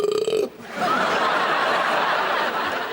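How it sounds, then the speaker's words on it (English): A big, solid, beer-flavoured belch from a man at a pre-match gathering, one long rasping burp lasting a couple of seconds after a brief voice, loud and close. "Big, solid, beer-flavoured belch."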